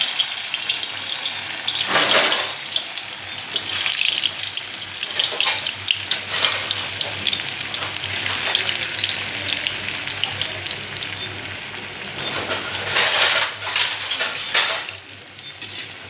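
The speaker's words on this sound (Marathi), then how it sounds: "हे आपलं तेल गरम झालेलं आहे ह्याच्यामध्ये आपण वड्या सोडून घेऊया" Coriander vadis (kothimbir vadi) frying in hot oil, with a loud, bright, continuous sizzle and crackle, punctuated by occasional utensil scrapes and surges as pieces are turned.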